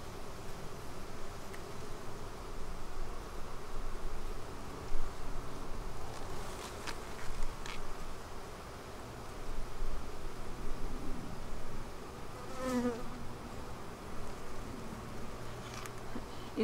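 Honey bees hum in a soft, constant drone close by around a hive, with occasional faint rustling and individual buzzes rising over the swarm.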